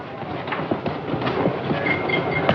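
A moving train aboard the Horror Express, its wheels beating a steady clickety-clack rhythm over continuous rolling rumble, loud and close, with faint squeals and rattles and no talking.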